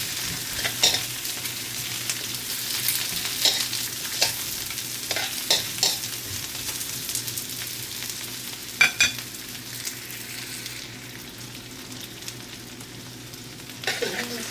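A fish curry with onions stirred in a frying pan: steady sizzling under repeated scraping strokes of a utensil, close and moderately loud, with occasional clinks and no talking.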